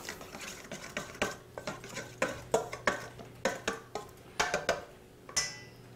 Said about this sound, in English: So this is 1 tablespoon of honey, and that was just 1 orange there, so just mix that up a bit.